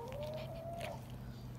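A cat meows once in a long, rising-and-falling drawn-out call in a farmyard setting with chickens nearby, heard close against steady background noise.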